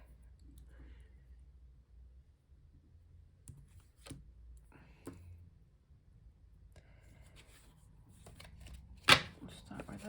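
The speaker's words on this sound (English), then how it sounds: "I quite like shuffling cards." Playing cards are shuffled by hand in soft, scattered riffles and flicks, with one sharper burst near the end, heard close up over a low background hum.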